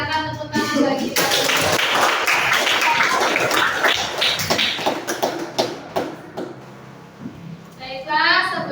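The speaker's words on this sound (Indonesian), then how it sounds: "silakan tepuk tangan bagi kita" Classroom applause for a student in an Indonesian lesson, a burst of many hands clapping together for several seconds before thinning into scattered claps, with a teacher's voice and children talking before and after.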